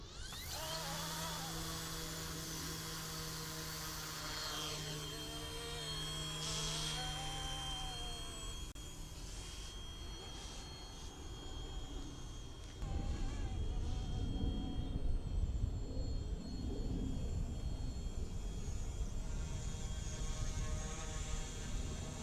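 A small RC helicopter on a test flight, its motor whining steadily with a high, buzzing rotor hum that shifts in pitch and grows louder partway through, with no voices.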